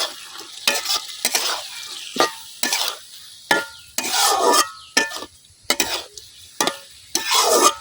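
Small chanda fish sautéed and stirred in hot spiced oil, giving a loud close sizzle with repeated scraping strokes of a spatula against the pan in an uneven rhythm.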